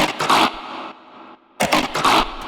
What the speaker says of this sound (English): is almost like a neuro bass